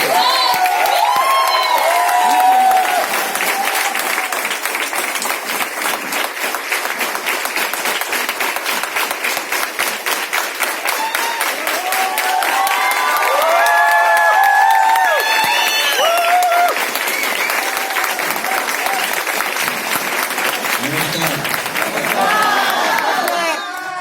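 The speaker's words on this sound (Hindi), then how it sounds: "आपकी जोरदार तालियों के साथ मैं आलोक सर को माइक हैंड ओवर करना चाहूंगी" An audience at a distributor training event in Thane applauds loudly and steadily for over twenty seconds, with cheers and whoops rising through the clapping.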